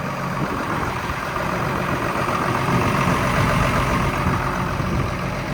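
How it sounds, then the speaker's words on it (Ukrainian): A 140-horsepower tractor idles close by with a steady low engine rumble, continuous and even throughout with no voices. "покажу вам такий тракторець"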